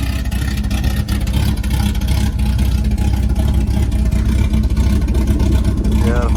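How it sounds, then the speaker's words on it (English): A VJ Chrysler Valiant hardtop engine idles roughly, loud and close. Its low, uneven rumble holds steady throughout. "gotta love that cranky idle."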